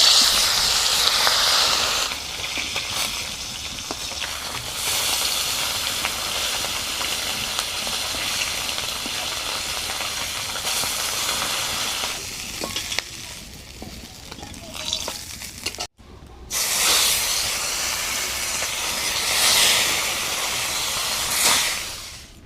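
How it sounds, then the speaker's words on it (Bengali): Loud, steady sizzling and hissing of bata fish frying in hot oil, continuing for a long stretch with a brief cut partway through. "তেলটা গরম হয়ে গেছে এবারে দিয়ে দিব মাছ"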